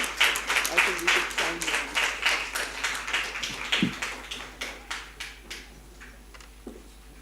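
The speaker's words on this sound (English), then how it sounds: "please give a big round of applause to Mr. Harshvardhanji." Conference attendees at an ecology event clap together in a rhythmic burst of applause that starts strong and gradually thins and softens over several seconds, with a murmur of voices beneath.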